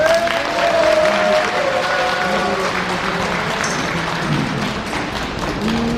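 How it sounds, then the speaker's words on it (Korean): Crowd applause at a large Korean political rally in Atlanta, steady dense clapping filling the whole stretch, with faint voices and tones mixed underneath. "박수 한번 주세요."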